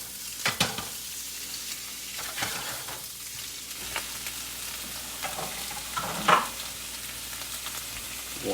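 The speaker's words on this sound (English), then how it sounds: "once your pan is hot enough, like you can kind of hear, that's kind of like a baby sizzle" Food sizzles and crackles steadily in a hot oiled pan, with occasional scraping stirs and clinks, no one talking.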